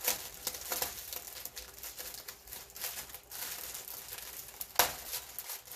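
A paper napkin crinkles and rustles up close, in irregular bursts with a sharper crackle near the end.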